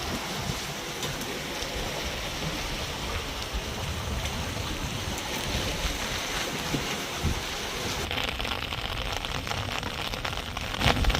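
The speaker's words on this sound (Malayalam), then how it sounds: "ഇന്നലത്തെ അത്രയും കാറ്റൊന്നും ഇല്ലെങ്കിലും കാറ്റുണ്ട്, ചെറിയ ഓളമുണ്ട്" Wind blows steadily over open water at a flooded paddy field, a continuous broad rushing hiss with faint lapping of small waves underneath and no voices.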